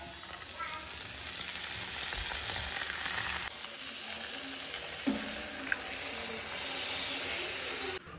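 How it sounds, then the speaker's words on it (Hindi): Dal poured into a hot onion, ginger and garlic tadka with garam masala in a home kitchen, giving a steady loud sizzle and frying hiss with occasional stirring scrapes throughout, no talk. "बस इसमें दाल हमें पलट देना है।"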